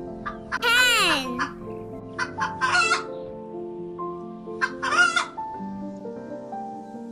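A rooster-like crow and clucking fowl calls rise in several bursts over a steady background of tones, with a voice babbling faintly.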